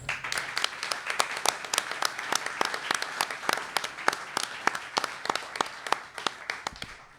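A crowd claps steadily, many hands producing dense, sustained applause at moderate distance, with no speech over it.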